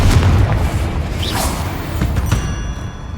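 A Confringo blasting spell explodes in Hogwarts Legacy, a loud booming burst that opens with a whoosh and decays into a rumbling tail.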